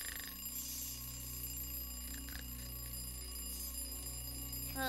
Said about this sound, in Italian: Ma chi è che suona? La sveglia.